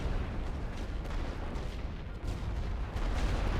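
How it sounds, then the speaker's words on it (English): Sustained booming artillery barrage rolls across World War I trenches in a strategy game, a dense continuous rumble of overlapping distant blasts with no pauses, loud and steady throughout. "And do a rolling barrage over all those enemy troops and all those trenches."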